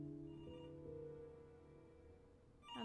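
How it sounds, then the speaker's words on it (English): A telephone rings in the video game Before Your Eyes, a call coming in the middle of the night, heard as a steady, sustained electronic ringing tone that holds for several seconds with no talking. "That's not a good phone call in the middle of the night."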